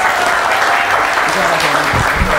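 A studio audience on the Peruvian TV show Feliz Domingo applauds loudly and steadily. A voice speaks over the clapping toward the end.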